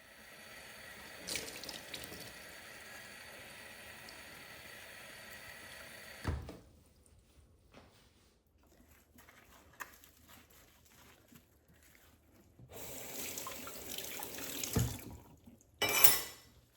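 Dishes are washed in a kitchen sink under a running tap, with water gushing and splashing at close range and occasional clinks of dishes. The tap starts and stops several times, and no one speaks.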